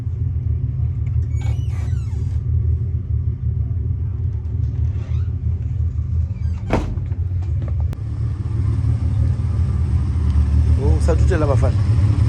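A car with a VR6 engine drives with a deep steady rumble throughout, overlaid by intermittent voices and a few brief higher-pitched sounds.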